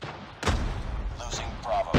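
A hostile sentry gun fires in a multiplayer video game: heavy, booming shots burst in close and loud, then sustained rumbling fire continues, with game radio chatter mixed in.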